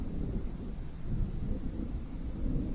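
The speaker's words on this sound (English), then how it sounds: "it's like constant thunder almost" Low, continuous rumbling thunder rolls on a forested Appalachian Trail hike in Pennsylvania as a storm passes nearby, deep and steady with no talking.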